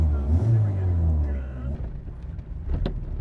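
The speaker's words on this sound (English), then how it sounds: "It's the first time I've driven an Alpine. It's noisy." A 1973 Alpine A110 rally car engine runs loud and low while driving, a steady rumble with a brief rev near the end, heard under a voice talking throughout.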